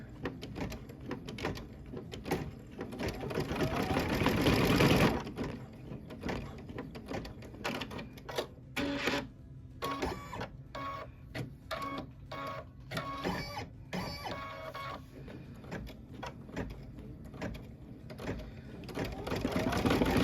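A sewing machine stitches through fabric with a steady, rapid mechanical chatter and whir. It runs close and continuously, with brief stops and restarts.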